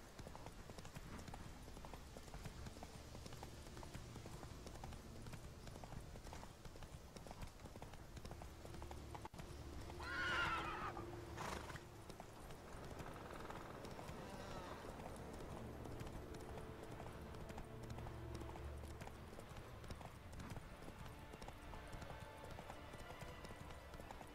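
Roach, a horse in The Witcher 3, gallops in a steady, continuous clip-clop of hooves throughout, with a brief neigh and rustle near the middle and no talking.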